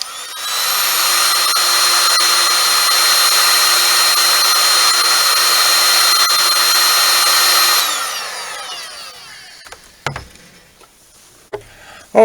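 A heat gun blows a loud steady whine for about seven seconds while shrinking tubing over soldered wire joints, then winds down, followed by a few faint clicks and handling knocks.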